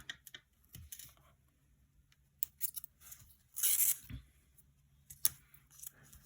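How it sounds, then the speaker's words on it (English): Tape being peeled off a handmade paper gift box with pockets, heard as a few short, crisp tearing and crinkling bursts spread through an otherwise quiet near-field moment, with no talking. "So what we are going to do is to remove the tape."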